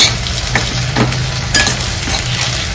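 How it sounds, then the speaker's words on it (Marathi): Dry spices roasting in a pan with onions, stirred with a spoon that scrapes rhythmically about every half second over a constant loud sizzle, with no talking. "आणि आता हे सुके मसाले सगळे भाजून घेते"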